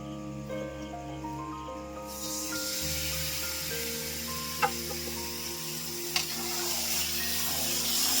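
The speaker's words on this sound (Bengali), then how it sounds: "ভাজা হয়ে গেছে, এবার আমি মাংসটা দিয়ে দেবো।" Pieces of mutton dropped into hot oil with fried onions and stirred in a pan, the sizzle surging as the meat goes in, with a couple of sharp utensil clicks and a rising hiss.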